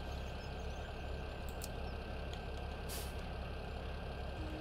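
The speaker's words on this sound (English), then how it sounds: "here comes the tractor trailer rig once again" Steady low diesel rumble of a tractor trailer rig truck in Farming Simulator 17, idling and rolling at moderate distance, with a few short hissing air-brake bursts above the drone.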